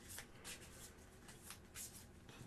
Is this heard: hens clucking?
no